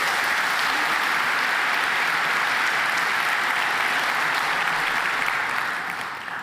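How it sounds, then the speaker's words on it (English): Sustained applause from a conference audience at Laracon EU in Amsterdam for a speaker, steady and full for about six seconds before starting to thin out at the end. "Big applause for Bert."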